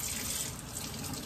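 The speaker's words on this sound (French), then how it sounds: "Donc je lave les pommes de terre et je les mets directement dans ça." Potatoes are washed under a steadily running kitchen tap, with a loud, continuous water splash and no talking.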